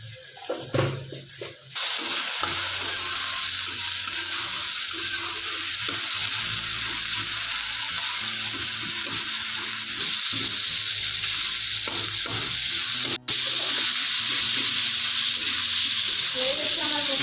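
Tomatoes and chili powder fry in a hot pan with a loud, steady sizzle that starts abruptly and crackles on without pause, apart from one brief cut near the end.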